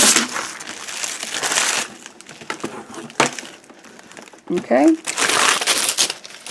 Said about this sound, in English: So you want to peel these off, these tapes. So just peel all these tape off.